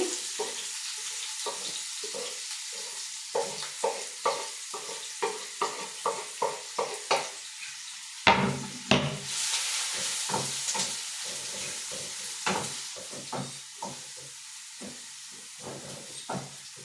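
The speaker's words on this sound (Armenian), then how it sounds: "սոխը սխտորը, լցնում եմ տապակվի" Chopped onion and garlic fry in a pan for cabbage and rice tolma. A soft steady sizzle runs under repeated clattering stirs, with one louder scrape near the middle.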